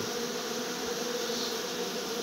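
Bees buzzing steadily around hive frames with candy feed, a dense continuous hum close by with no talk.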